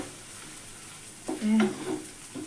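Cauliflower and peas stirred in a pan of hot oil give a soft scraping and sizzle, with a short burst of frying noise midway and quieter stirring afterward.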